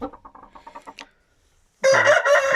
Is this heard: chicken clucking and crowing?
yes